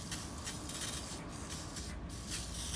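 Degreaser sprays onto an aluminum car part from a Dodge Charger SRT brake upgrade, a steady close hissing spray with brief rubbing, fairly quiet.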